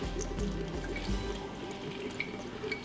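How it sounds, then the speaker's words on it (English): Vinegar is poured over chive blossoms in a jar, a soft, steady trickle of liquid with faint drips, close by and quiet, with no talking. "we're just going to submerge these blossoms in the vinegar until it covers all of them"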